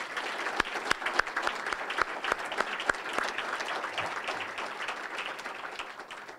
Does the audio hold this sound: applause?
yes